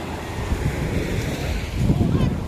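Waves wash onto a shore amid gusty wind buffeting the microphone, a continuous outdoor roar with a faint voice in the background.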